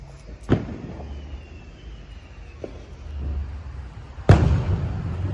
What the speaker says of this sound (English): Too many fireworks.